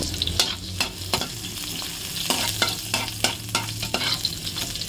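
Onions hit a hot pan and fry with a steady sizzle, broken by sharp scraping and stirring clatters of a spatula against the pan at irregular intervals, close up.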